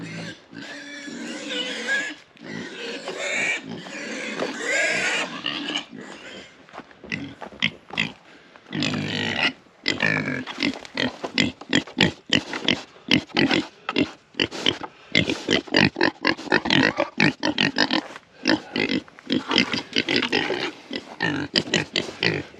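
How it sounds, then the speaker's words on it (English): Pigs at feeding time on a homestead farm, loud close squeals and grunts from several animals, bursting almost continuously in rapid overlapping cries with a few short pauses. "the pigs are raising cane"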